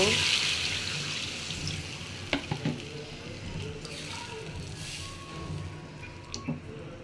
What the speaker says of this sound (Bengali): এবার পানিটা দিয়ে দিব।